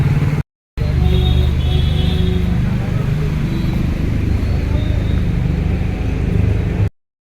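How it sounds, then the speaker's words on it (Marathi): A car is being parked on a road, giving a steady, close engine rumble with low road noise that runs for several seconds after a brief gap and then cuts off abruptly. "सचिन गाडी लावतात तोपर्यंत."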